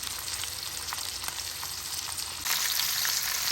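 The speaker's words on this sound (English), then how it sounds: "This is how we grill our meat. let it cook." Meat for steak sizzles on a hot grill in a steady, loud, bright hiss with small crackles, growing a little louder near the end.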